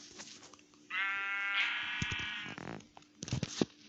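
A single drawn-out, synthetic-sounding Minecraft sheep bleat, with soft clicks and game effects before and after.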